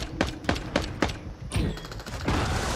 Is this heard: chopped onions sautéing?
no